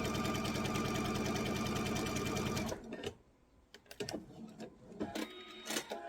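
A sewing machine stitches across a line of bias binding in a loud, steady mechanical whir for under three seconds, then stops, followed by scattered clicks and rustling of fabric handling.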